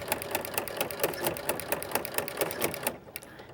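A sewing machine runs steadily at slow, even speed while ruffling fabric for a little girl's party dress, a close rhythmic stitching clatter that stops abruptly near the end.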